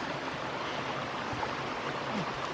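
A cascade in Stinkhorn Creek rushes as a steady, dense wash of white water, constant and fairly faint, with no other sounds standing out.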